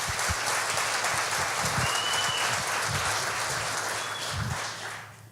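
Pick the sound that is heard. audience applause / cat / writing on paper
audience applause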